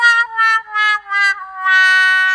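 A cat meows several times in a row, loud and close, with long drawn-out tonal cries separated by short gaps, the last one stretched out and held.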